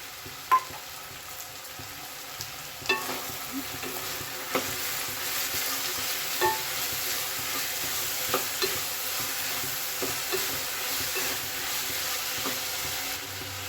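Vegetables such as capsicum and tomato fry in a pan with a constant soft sizzle, while a spoon stirs them with occasional sharp scraping knocks against the pan at irregular intervals.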